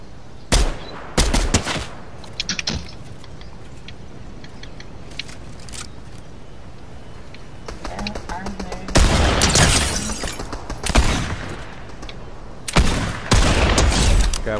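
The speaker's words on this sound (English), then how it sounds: "they're shooting at us" Gunfire in Fortnite, bursts of rapid shots and scattered single cracks, loud and close in clusters separated by quieter gaps, with players talking at times.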